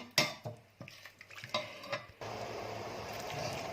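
A pot of canned-fish coconut curry sauce for Thai rice noodles: a few metal clinks and knocks from a utensil, then a steady, fairly quiet rush of bubbling boil that carries on to the end.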